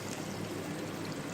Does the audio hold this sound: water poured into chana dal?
yes